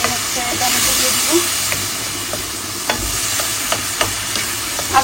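Potatoes and green chilies sauté in spices in a hot pan, giving a loud, steady sizzle and hiss broken by occasional clacks of a spoon stirring against the pan.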